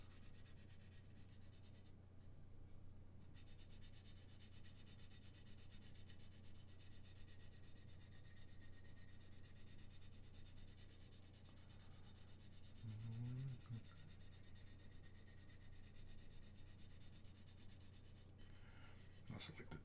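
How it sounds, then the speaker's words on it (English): A part from a 1/48 scale Gundam RX-78 model kit is sanded by hand, making a faint, continuous soft rubbing scrape under a low steady hum, with the stroke angle shifting partway through. "I also like to change up the angle in which I'm sanding as well."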